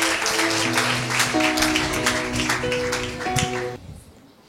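Audience clapping at a church Christmas program, steady applause filling most of the clip over a sustained musical tone, then fading out near the end.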